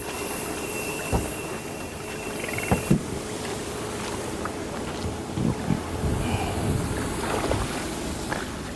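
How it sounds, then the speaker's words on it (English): An inflatable boat is backed off its trailer and launched into the water outdoors, with a steady wash of wind and water, a few sharp knocks and clunks, and no talking. "let's go ahead and get the boat in the water"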